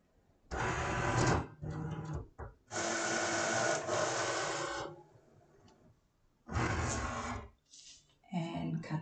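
A Cricut cutting machine slicing iron-on vinyl, with loud, close bursts of motorized whirring and buzzing that run for a second or two at a time, separated by short pauses.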